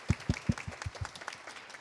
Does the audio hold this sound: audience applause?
yes